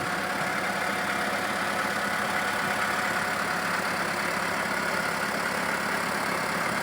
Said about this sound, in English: This is an 80 horsepower tractor, Perkins engine of course.